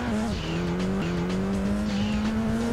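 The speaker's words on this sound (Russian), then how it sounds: "Сейчас вот на этой машине хорошо слышно датчик давления, как срабатывает турбины" A race car in Gran Turismo 2 drives at sustained engine pitch, with a steady loud motor tone, small gear-like pitch steps and tire noise over gravel, without any clearly separate turbo blow-off burst.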